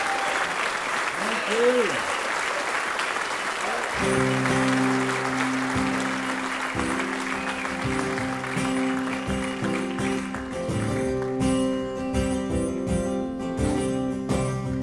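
A live music audience at Wealthy Theatre claps and cheers loudly in a dense, sustained burst, while a performer says a brief thanks and a band begins playing underneath.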